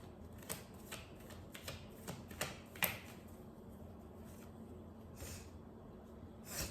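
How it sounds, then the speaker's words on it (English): Tarot cards are shuffled and pulled in soft, quiet riffles and snaps, arriving in short irregular bursts with hushed pauses between them. "Let's pull out more cards now."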